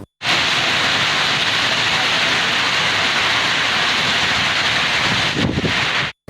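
Steady rain falls across a city in Punjab, a loud, dense, unbroken hiss with a brief heavier swell near the end, cutting off abruptly at both edges.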